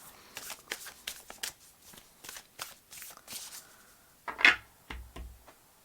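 A deck of Manifestation Oracle cards by Yasmin Bolland being shuffled, a run of quick papery riffles and flicks, close and fairly soft, ending with a few louder taps.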